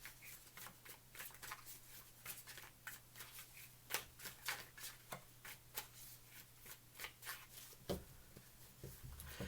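Twin flame cards shuffled for a tarot reading, a run of quiet, closely spaced flicks and slaps in an uneven rhythm over a low steady hum.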